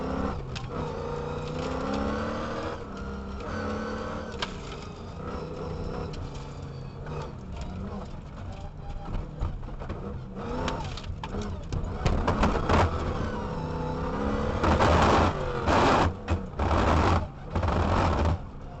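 A hybrid Revenger rally car at the Otago International Classic Rally, engine droning and revving continuously at close range, with a commentator's voice over it.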